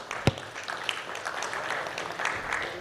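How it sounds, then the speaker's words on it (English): Audience applause at a congress in Miami, a sustained wash of clapping from a crowd with one sharp nearby clap at the start, steady and moderately loud. "Round of applause once again"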